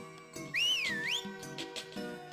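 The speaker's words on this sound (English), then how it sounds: "Because we need to do 50 whistles here." A single swooping whistle in the video game Majora's Mask. The pitch rises and falls once, bright and clear over quiet game background music, with no talking.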